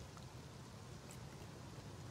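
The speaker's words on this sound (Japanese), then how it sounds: "雨降ってるな。" Steady rain falls in the survival video game Rust, a faint, even hiss of drops that continues without a break and with no other sound.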